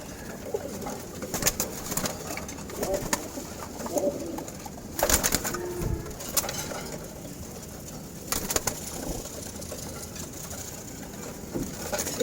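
Male pigeons in a loft in Wari, Dhaka, coo softly in the background. Scattered louder rustling bursts, like wing flaps or movement, cut in a few times, and no one talks.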